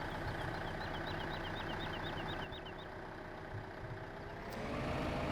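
A tractor engine in Farming Simulator 2015 runs at a steady, loud, rumbling idle, with a rapid chirping pattern over it at first and a brief sharp click near the end.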